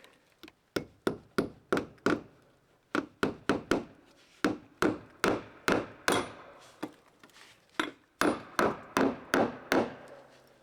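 Roofing nails hammered into a wooden cabin in a boreal forest: close, loud, ringing hammer blows in quick bursts of several strikes each, with short pauses between groups.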